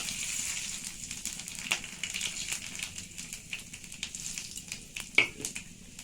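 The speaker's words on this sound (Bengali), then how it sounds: "একটু কালো জিরে ফোড়ন দিয়ে দিলাম।" Black cumin seeds crackle and sizzle in hot oil alongside bay leaf and dried red chillies, a faint steady fry with scattered small pops and ticks, no talking.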